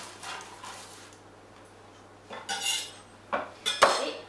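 A lemon meringue tart shell, freshly baked and cooled with its baking beads removed, is moved into a tart mould with a few sharp clinks and knocks of metal and dishware near the end, after quiet handling.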